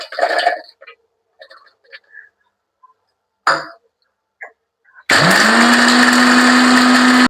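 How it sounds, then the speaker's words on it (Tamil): A blender grinds sugar together with roasted pistachios, starting abruptly after scattered quiet kitchen clicks and running as a loud, steady, continuous whir to the end. "இப்போ சர்க்கரை பிஸ்தா நல்லா தூள் பண்ணி நைஸாக அரைச்சாச்சு."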